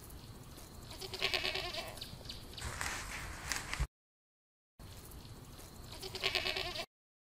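A goat bleats loudly in two separate bursts with a short silent gap between them, and no one speaks.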